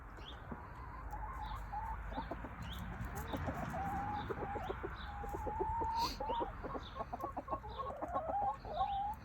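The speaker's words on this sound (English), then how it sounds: "get back to just watching my chickens, carrying around the rooster" Backyard chickens with a rooster among them give soft, steady clucks and murmurs throughout, fairly quiet, with a faint crowing note and a low background hum.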